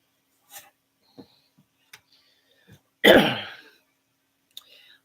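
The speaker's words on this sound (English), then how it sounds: "I keep clearing my throat" A single loud, rough throat clearing near the middle, set among faint clicks and small mouth noises in an otherwise quiet room.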